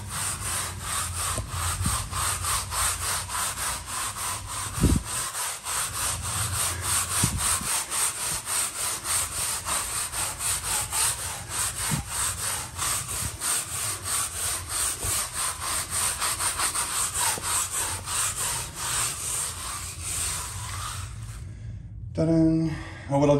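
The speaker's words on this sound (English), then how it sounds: "And again, instantly, stiff bristle brush." A stiff bristle brush scrubs back and forth over an epoxy-coated garage floor to lift embedded tire marks, a steady rapid rasping rhythm close up, stopping near the end.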